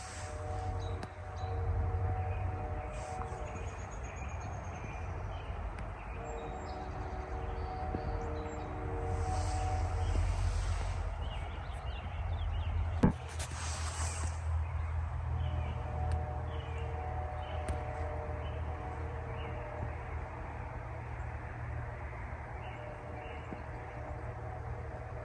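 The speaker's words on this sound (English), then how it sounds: "here is 9833's K3L Horn blowing through Palgrave" CP locomotive 9833 sounding its K3L horn while passing through Palgrave, heard over a long, continuous low rumble of the passing train, with sustained horn tones and a sharp click partway through.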